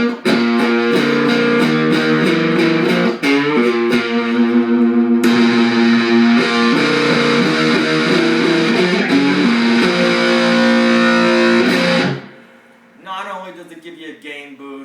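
Fender Stratocaster electric guitar played through a Cara Clap distortion pedal, loud driven chords and sustained notes ringing close for about twelve seconds before cutting off, followed by a few quieter clean notes.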